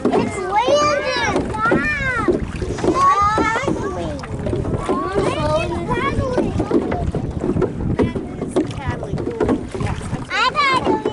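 Children paddling a small boat on water outdoors, with steady wind buffeting and water sounds running throughout beneath continuous excited child chatter.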